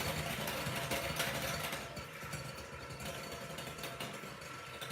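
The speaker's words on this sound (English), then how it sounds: "So, just our regular old hand mixer." An ordinary electric hand mixer beats lemon-square batter until frothy, giving a steady, fairly loud motor whir that runs continuously with a slight dip partway through.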